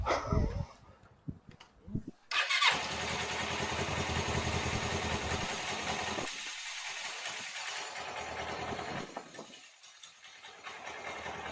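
A GS 500 motorcycle engine catches after a few sputtering tries and settles into a steady, loud idle that runs on, with a brief dip in the middle.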